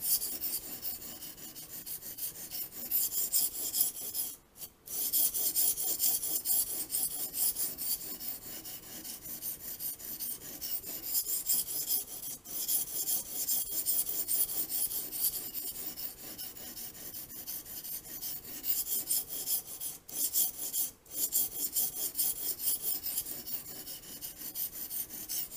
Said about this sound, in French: je suis avec la pierre de grain 220 que je vais enlever plus de matière sur le couteau